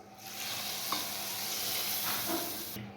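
Steady crackling sizzle of hot tempering oil poured into crushed mango pickle, continuous and close, with a few brief clinks and stirring sounds mixed in.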